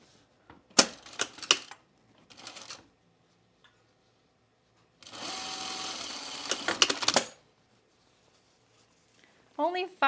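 A domestic sewing machine stitches a diagonal seam on a pullover camp dress in a short whirring burst, with brief clicks before it and a voice speaking at the start and end.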